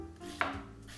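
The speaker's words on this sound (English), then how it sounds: "we cut the bulb into half and core it, and then thinly slice it across the grain" A knife cuts through a halved, cored fennel bulb for a salad, thinly slicing across the grain; a single crisp stroke sounds close against a quiet background.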